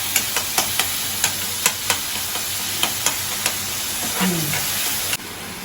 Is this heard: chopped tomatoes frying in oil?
yes